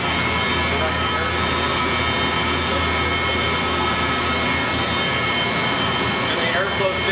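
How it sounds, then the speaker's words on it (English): Three building exhaust fans run nearby with a loud, steady, unbroken roar and hum that fills the whole stretch without pause. "So you got your 3 exhaust fans and airflow here."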